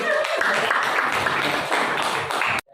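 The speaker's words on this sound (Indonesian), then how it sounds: "Basa Jawa, tepuk tangan." Schoolchildren in a Javanese-language classroom clapping hands in unison, a short close burst of rhythmic claps that cuts off abruptly.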